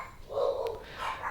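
Dogs barking faintly at home, a couple of short muffled barks in the distance over a quiet background.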